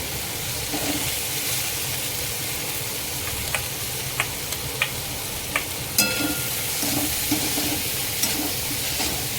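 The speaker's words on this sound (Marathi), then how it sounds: "आता मसाला टाकून मिनिटभर परतून घ्यायचा आहे छान" Masala with red chili powder, onion and garlic being sautéed in a pan for a veg Maggi masala frankie, a steady close sizzle with scattered light clicks of stirring, no talking.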